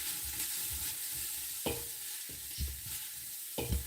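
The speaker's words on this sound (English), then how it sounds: "And then we're going to stir that up" Ground cumin gets stirred into food frying in a pan, a steady sizzle broken by several scraping strokes of the spoon, close and fairly quiet.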